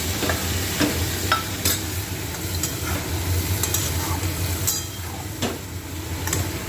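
Mustard seeds and cumin crackle and sizzle in a hot pan, a constant frying hiss with periodic stirring clatter and a low background rumble.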